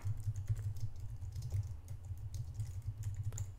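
Typing on a computer keyboard to enter a file name, a steady run of soft key clicks heard alone against a low background hum.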